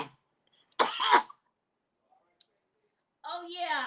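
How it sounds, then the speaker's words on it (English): A person fakes a cough, two or three forced throat-clearing coughs close to the mic, followed after a pause by a short click and then a voice talking. "yeah, I'm faking coughing."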